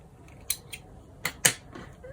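Scissors snip crochet yarn with a few quick, crisp cuts close by, quiet and set against faint room noise, with no voices.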